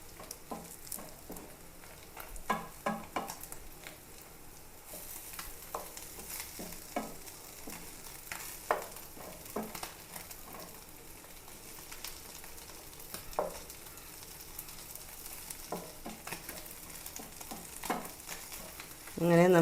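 Green pallathi fish fry in a pan with a soft, steady sizzle and occasional sharp crackles and pops, moderately quiet and close, with no talking.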